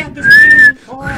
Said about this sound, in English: Whistles under her breath